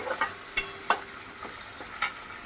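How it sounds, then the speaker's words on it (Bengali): Onion and tomato frying in a pan for a kabuli chickpea ghugni, with a low steady sizzle broken by several sharp scrapes and knocks of stirring, close and fairly quiet, with no talking. "ভেজে আমি এবার টমেটোটাকে একটু হালকা করে একটু ভেজে এবার আমি মশলা দেব"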